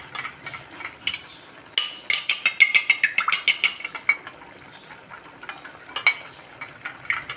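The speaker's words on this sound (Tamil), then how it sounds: "நல்லா அடித்து கலந்துக்கிடுவோம்." A spoon beats and mixes curd (yogurt) in a bowl for an okra curry, making quick, rhythmic clinking strokes. The strokes cluster into a fast run, then thin out into scattered taps.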